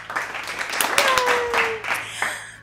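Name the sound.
applause at high school awards ceremony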